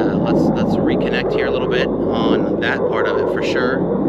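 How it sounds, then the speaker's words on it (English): Military jets fly over near Luke Air Force Base, a steady broad roar running the whole time beneath someone talking close to the microphone. "Jets again."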